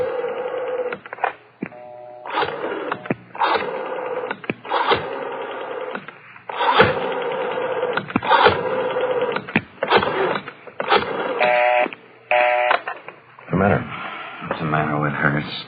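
A rotary telephone being dialed, with the dial whirring and clicking back in repeated bursts, loud and close, as a number starting with 9 is entered; voices come in now and then between the dialing runs.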